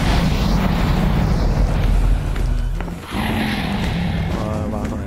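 A Minecraft explosion blasts with a loud, rumbling low boom that fades out within a few seconds, surrounded by dense game noise and people talking over it.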